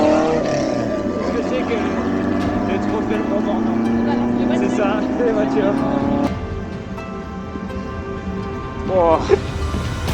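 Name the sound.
cars racing in the Mont Morvan hill climb trophy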